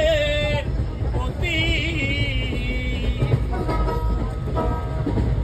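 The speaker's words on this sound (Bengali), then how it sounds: "ফাইনালি আমরা ট্রেনে উঠে যাই। ফাইনালি আমরা দীঘা যাওয়ার জন্য জার্নি শুরু করে দিই।" Passenger train on a journey to Digha: a steady low rumble of the moving carriage runs throughout, with voices and other cabin sounds layered on top.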